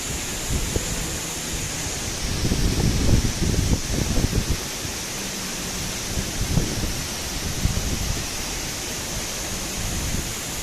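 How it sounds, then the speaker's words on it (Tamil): A large waterfall, Aagaya Gangai Falls in the Kolli Hills, roars in a steady broadband wash of falling water, loud and continuous with no breaks. "எவ்வளோ பெரிய வாட்டர் ஃபால்ஸ், அப்படியே ஆகாயத்துலேருந்து கொட்டுற மாதிரி இருக்குங்க"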